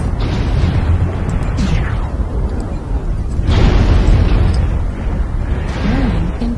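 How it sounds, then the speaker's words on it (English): Rumbling missile explosions in the MechWarrior Online video game, heavy repeated booms swelling over a constant loud mechanical drone, with a synthetic voice speaking over the blasts. "Warning, incoming missile."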